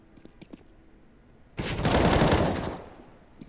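A burst of rifle fire from a Counter-Strike esports match, credited to an AWP sniper: a sudden, loud, dense blast of shots lasting over a second, then fading, with faint clicks before it.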